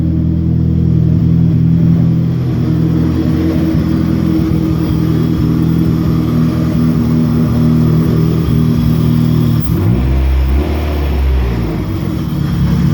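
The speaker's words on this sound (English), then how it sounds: "Ah, that B20 sounds so good." A Volvo B20 engine in a hatchback runs steadily up close and loud, its low rumbling idle broken by a couple of revs late on, with no talking over it.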